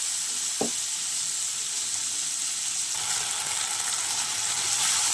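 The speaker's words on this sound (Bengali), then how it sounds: "দেখো বন্ধুরা, কাঁচা টমেটো ভাজা আমার প্রায় হয়ে এসছে।" Raw green tomatoes frying in a covered pan over low gas with salt and turmeric, a steady hissing sizzle heard close by, with one brief knock near the start.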